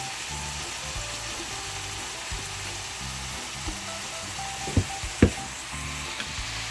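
A spoonful of coconut oil sizzles and fries steadily in a pan, a constant close hiss with a few sharp clinks of a utensil against the pan near the end.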